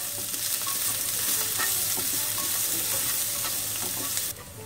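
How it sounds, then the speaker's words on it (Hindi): Onion frying lightly in ghee while being stirred, a constant soft sizzle with faint scraping strokes, fairly quiet and steady, easing off slightly at the very end. "भूनने के बाद में प्याज डालेंगे प्याज को हल्का सा भूनेंगे"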